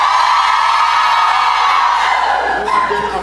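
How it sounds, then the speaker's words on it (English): A packed audience at a jazz show roars with cheers, whoops and shouting in one loud, sustained burst that eases slightly near the end. "let me hear you make some noise."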